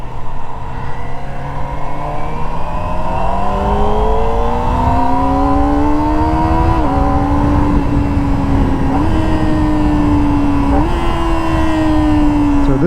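A 2024 Kawasaki ZX-25R SE motorcycle's small high-revving engine screams loudly while ridden, pitch climbing steadily through the gears with brief clutchless quickshifter dips between rising runs.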